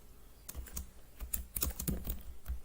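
Short bursts of keystrokes on a computer keyboard as a Linux package-list command is entered, quick irregular clicks close up with no talking.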